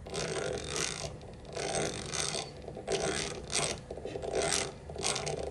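Waxed brass screws turned slowly by hand into pilot holes in a wooden dovetail box, making faint rhythmic creaking and rubbing in repeated twists.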